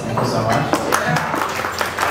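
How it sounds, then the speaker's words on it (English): Applause from a crowd at a charity wine event, a short burst of scattered clapping under a speaker who talks over it. "Round of applause for yourselves."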